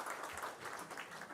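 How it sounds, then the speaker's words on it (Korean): Short stretch of warm applause from a church congregation welcoming a pastor, many hands clapping together in an even, close wash. "박수해 주시기 바랍니다"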